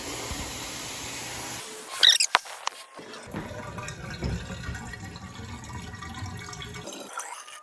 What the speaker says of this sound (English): you can hear the water. It's on full throttle